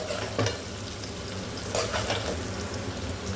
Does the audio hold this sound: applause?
no